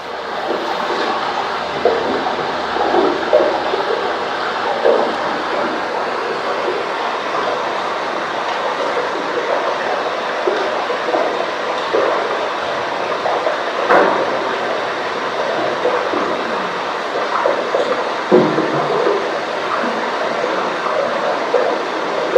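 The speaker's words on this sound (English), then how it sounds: "So in deep water with the microphones as deep as I could get them," A dense, hissing wash of crackling and fizzing underwater noise recorded near icebergs in deep water, with occasional faint creaks and pops, steady throughout.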